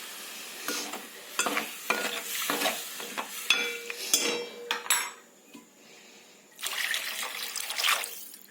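Soaked tamarind juice goes into a Telugu-style fish pulusu pot, a brief watery pour and splash amid clinking utensils and stirring against the pot, with a soft sizzle beneath, then a longer burst of bubbling near the end.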